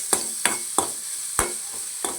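Crushed ginger and garlic sauté in a pan, with a steady faint sizzle broken by five or six sharp scrapes of a spoon stirring, no voices.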